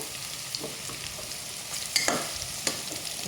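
Whole head of garlic dropped into hot oil in a pan, a soft steady sizzle with a few light stirring clinks and scrapes, close by and without talk.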